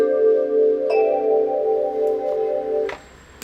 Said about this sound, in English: this would be like a phase shifter sound.